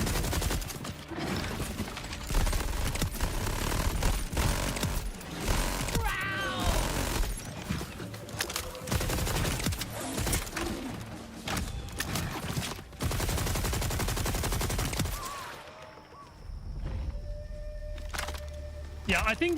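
Sustained gunfire from a Borderlands 4 weapon spraying continuously for several seconds, loud and dense with bursts layered over game effects and a talking voice, ending in quieter ambient game sound.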